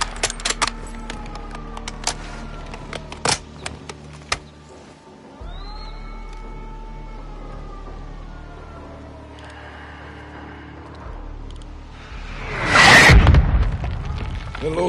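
Mortar fire in the Modern Warfare 2 campaign: faint launches and rising whistles build over distant rumble and clatter, then one heavy, loud explosion lands near the end.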